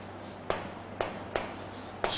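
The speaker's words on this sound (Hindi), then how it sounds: "मैं लिखता हूं" Chalk or marker taps and strokes on a classroom board during a chemistry lesson on salt hydrolysis, four short, sharp strokes spaced about half a second apart over a steady room hum.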